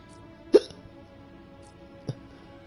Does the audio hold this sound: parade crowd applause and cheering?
no